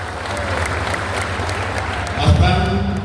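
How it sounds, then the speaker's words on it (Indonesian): A crowd at a Pemuda Batak Bersatu fifth-anniversary event in Jakarta applauds, a broad sustained clapping that swells near the end as a voice cuts in over it. "Tepuk tangan untuk beliau."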